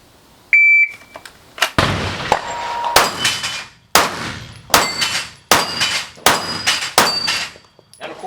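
A shot timer buzzer sounds one short, shrill beep at the start of a shooting run, followed by a string of loud, sharp gunshots at an irregular pace.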